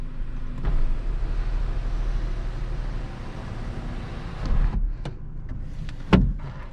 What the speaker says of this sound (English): it's going to reveal a fully powered sunroof, which opens up just like that